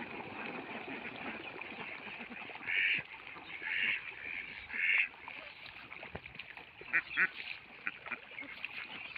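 Ducks on a farm with shallow water and shady ground quack in several short bursts, moderately close over a faint outdoor background.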